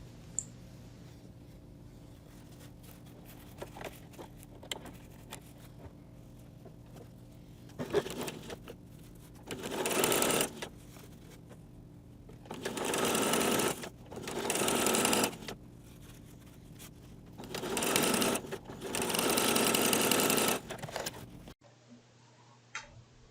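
A sewing machine runs a quarter-inch seam through quilt fabric for a pillow top, in several bursts of rapid stitching separated by quiet pauses, with a faint background hum.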